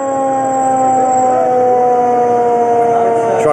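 A brand-new City of Sheboygan Falls Fire Department 100-foot ladder truck sounds its wailing siren in a centennial parade, loud and sustained with sweeping tones over a steady engine drone.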